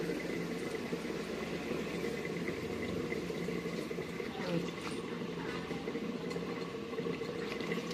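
Chicken pieces frying in a pan: a steady, even hiss and crackle of hot oil, close and moderately loud, with no pauses.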